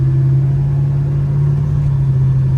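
Chevrolet Chevelle with a four-speed column shift, engine running at about 196 degrees: a steady, loud low rumble with a constant droning tone, unbroken and without talk.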